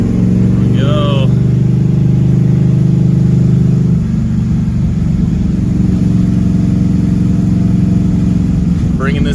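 The V8 engine of a barn-find Chevrolet Camaro Z/28 runs loudly while the car is driven, a steady low drone close by, and the engine note shifts partway through.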